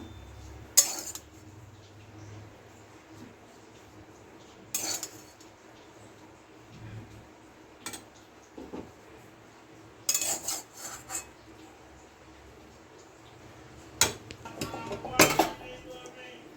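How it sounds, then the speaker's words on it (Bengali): Sharp metallic clanks and clinks of a metal tiffin box being set into water in a cooking pot, a handful of separate knocks spread across a quiet kitchen background with faint scraping between them. "জলটার মধ্যে টিফিন কৌটোটা দিয়ে দিলাম"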